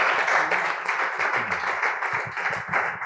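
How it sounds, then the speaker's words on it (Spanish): An audience applauds at a book presentation, dense, sustained clapping from a roomful of people, loud and even for the whole stretch. "Un aplauso para ella."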